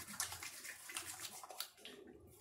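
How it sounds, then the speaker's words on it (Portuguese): Water splashing as hands are washed with soap, a steady wet rinsing with small splashes and rubbing, close by and fairly quiet, with no talking. "lavar bastante a mão. Lavar a mão aqui bastante. Água e sabão, tá?"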